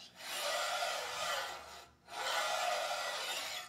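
A flat file rasps against the inside of a saw table's metal miter slot in two long, even strokes separated by a brief pause. The scraping is close and steady, with no talking.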